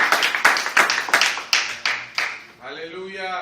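Congregation in a church clapping in a quick, uneven burst of sharp claps that trails off into a sung or spoken voice at the end.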